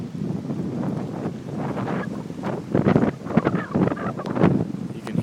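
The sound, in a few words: strong wind gusts howling through neighborhood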